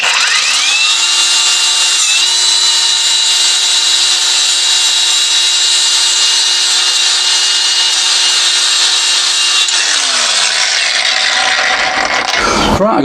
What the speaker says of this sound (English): I think using a hand file is going to take far too long, so we'll move on and use an angle grinder